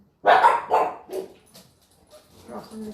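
Dogs bark outdoors, a couple of loud close barks followed by fainter, more distant yips and barking, with no talk over them.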